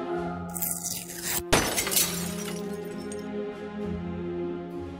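A bird crashes into a stained glass window in Deponia Doomsday, giving one sudden loud shatter of breaking glass about halfway through, set against a sustained background tone that continues afterward.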